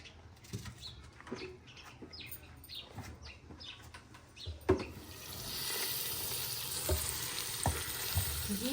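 Onions drop into hot ghee, and after scattered clinks and stirring taps a loud, continuous sizzle rises and holds, with occasional knocks of a spoon against the pan.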